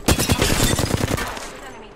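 A loud, close burst of rapid gunfire in the battle royale game Apex Legends hammers for over a second, then trails off into a fading, rumbling tail.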